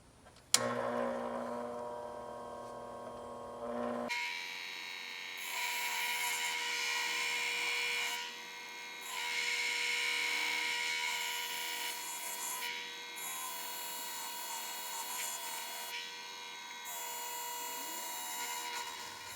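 A lapidary polishing machine works on fire obsidian, starting up with a sudden jump into a steady high mechanical whine that hums on for over fifteen seconds and swells and dips slightly in loudness.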